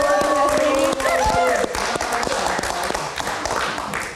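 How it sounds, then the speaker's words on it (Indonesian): Studio audience applause on a live Indonesian football-themed talk show, a short burst of clapping with sharp scattered hand claps over a steady wash, under ongoing talk and background music. "Tepuk tangan dulu dong."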